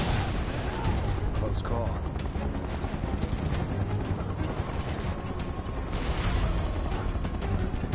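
Gunfire from the video game Final Fantasy 7 Remake on PlayStation 5, a dense continuous barrage of rapid shots filling the whole stretch, with a voice talking briefly over it.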